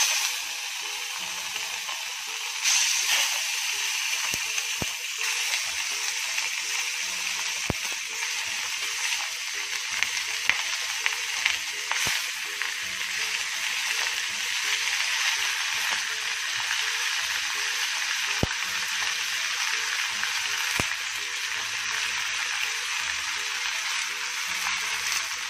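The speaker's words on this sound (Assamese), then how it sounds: "এয়া কেৰাহীখন সম্পূৰ্ণ গৰম হৈ উঠিলে এতিয়া মই ইয়াত মাংসখিনি দি দিম।" Pork pieces sizzle in a hot wok (karahi) being readied for a pork boil made without oil or spices. A steady bright hiss runs throughout, broken by occasional sharp clicks and crackles, with no talking.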